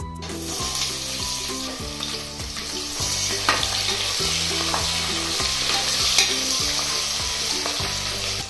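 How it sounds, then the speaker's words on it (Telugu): Sliced onion and green chillies fry in ghee with a dense, steady sizzle, loud and close, as background music plays underneath. "ఈ నేతిలో కొంచెం వేగనిద్దాం. ఇది కొంచెం వేగనిచ్చి 1 ఉల్లిపాయ, 4 పచ్చిమిర్చి చీలికలు"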